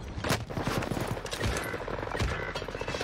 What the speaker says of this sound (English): They're shooting that shit up the tower, Hector.